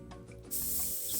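A short burst of airbrush spray hisses steadily as paint goes onto the tracks of a 28mm A15 Crusader model tank, following a faint quiet lead-in, close and soft.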